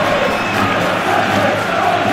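Stadium crowd in a PES 23 football match, Real Madrid versus Man City in a Champions League semi-final, cheering and applauding in a steady, dense roar throughout.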